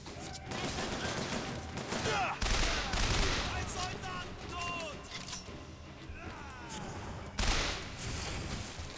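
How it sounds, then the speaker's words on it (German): Gunfire from a shotgun fight in BioShock Infinite, with dense, continuous volleys of shots and loud blasts over busy game sound effects and a sharp burst near the end; someone talks quietly beneath the noise. "Ups, da wollte ich gar nicht schießen."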